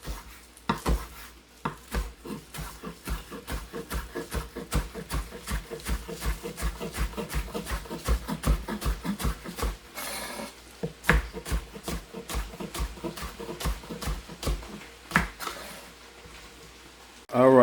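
Knife chopping four stalks of green onions on a cutting board, a long run of quick, steady, evenly spaced taps close by, pausing briefly midway before resuming.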